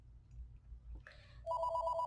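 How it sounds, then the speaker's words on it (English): A telephone rings once indoors, a bright electronic trill that starts abruptly after a quiet low hum and a short rustle, fairly clear and alone. "That was one ring."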